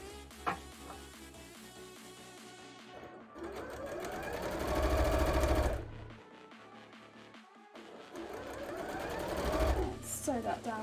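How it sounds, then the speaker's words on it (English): A sewing machine stitches puffy pumpkin shorts for a Pumpkaboo cosplay in two sustained runs of fast, close mechanical whirring, with brief stops between them and a person talking over it. "Sew that down there."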